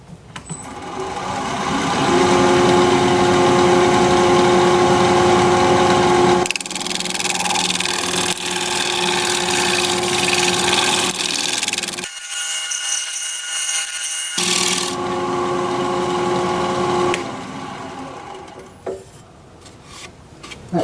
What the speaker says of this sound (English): so now I have to scrape it again.